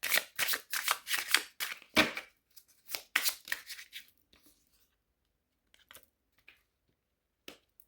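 Tarot cards are handled and shuffled in quick, close riffling bursts for about four seconds, followed by a few sparse soft taps and card clicks, with no talk.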